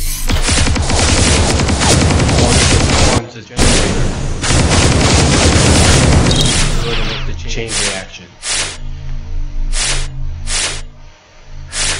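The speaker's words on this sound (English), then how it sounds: "I will shoot you with my suppressed ray gun." Bursts of sci-fi ray gun fire from a suppressed weapon in a video game, rapid loud volleys first, then sparser sharp shots over a continuous game background.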